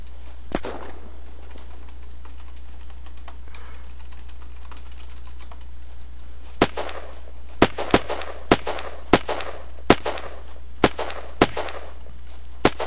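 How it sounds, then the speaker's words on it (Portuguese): Gunshots in the video game Unturned crack out as sharp isolated reports, a couple early and then a run of about ten evenly spaced shots in the second half over a quiet background hum. "Arregacei o Mauro no tiro e ele não morre"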